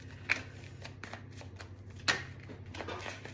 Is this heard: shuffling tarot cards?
yes